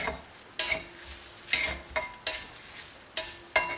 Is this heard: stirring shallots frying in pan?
yes